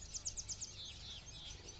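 Free birds outdoors give a quick run of about five high, thin chirps at the start, then fainter twittering over a low background rumble.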